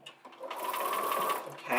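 A sewing machine quilts down a fabric edge, a short, quiet mechanical whir that holds steady for about a second and a half under a nearby voice.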